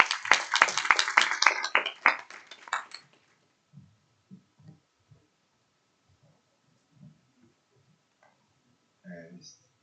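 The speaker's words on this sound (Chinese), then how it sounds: "我们热烈掌声欢迎曾总。" Applause welcoming a speaker at an aquaculture and marine biotechnology conference, loud and dense for about three seconds before fading into a quiet room with a few soft knocks and brief voices.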